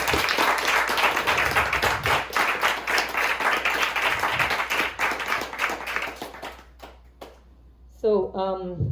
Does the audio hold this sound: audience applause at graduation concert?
yes